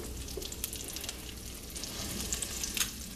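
Garbanzo bean patties fry in oil with a steady sizzle and scattered crackling pops, close and moderately quiet, with no voices.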